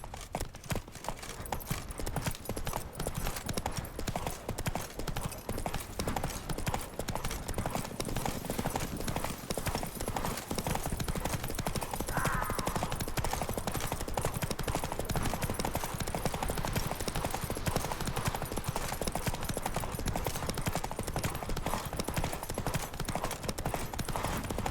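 Hooves of a galloping horse in The Witcher 3 pound in a fast, continuous clip-clop rhythm, steady and dense throughout, mixed with game ambience and no audible talk.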